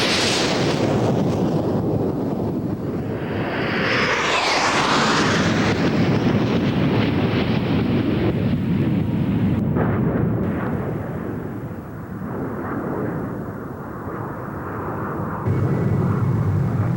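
A Hawker Hunter jet fighter flies past, a loud roaring jet whoosh that swells and sweeps through, then fades into a long, steady rumbling drone.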